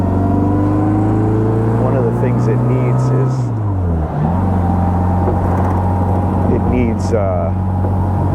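A 1960 Bugeye Sprite that needs front shocks is driven on the road. Its engine drones loudly, and the pitch rises and dips as it shifts and accelerates, while someone talks over the engine noise.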